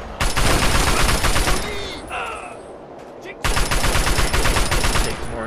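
Rapid bursts of gunfire in Fallout 3 combat, loud and continuous automatic fire with a short lull midway before shooting resumes, with a voice briefly heard under it.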